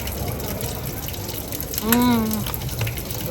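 Water runs steadily from a public drinking fountain in Dubrovnik into a 40-ounce bottle, a rising hollow tone as it fills, with background chatter and street noise.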